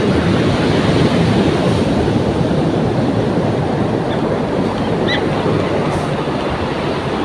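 A loud, constant roar of strong ocean waves breaking on a shore close by, heavy and unbroken, with wind rushing over the microphone.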